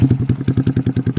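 A 2022 Honda Grom motorcycle with a new cam idles close by in a fast, choppy, steady chug of about a dozen even thumps, loud and alone.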